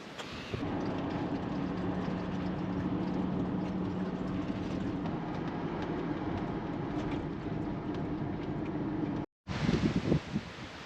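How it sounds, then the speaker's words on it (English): Steady wind buffets and roars across the microphone outdoors beside a motorhome, a continuous rushing noise that cuts out briefly near the end before gusting again. "It's windy."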